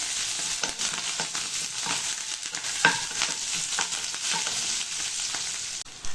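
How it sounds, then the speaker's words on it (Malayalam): Whole curry leaves on their stems hiss and crackle in hot oil in a pan, a steady close sizzle broken by a few scraping stirs, with shallots and garlic frying for an ivy gourd and carrot stir-fry. "ഇനി അതിനകത്തോട്ട് ആ കറിവേപ്പില തണ്ടോടെ തന്നെ ചേർക്കുകയാണ്"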